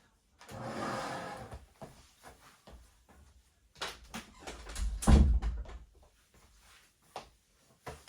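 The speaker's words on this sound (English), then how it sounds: "I might just shut my door." Quiet shuffling and handling noises, then a door is pushed shut with a dull thump, followed by a few faint clicks.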